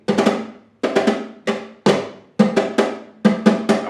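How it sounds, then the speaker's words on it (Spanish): Flamenco guitar strummed with a three-finger rasgueo (ring, middle and index) for sevillanas, heard as several short bursts of bright, percussive strums in uneven groups, close and clear with no talking. "que tiene que sonar el rasgueo de los 3 dedos, anular, medio índice, bien"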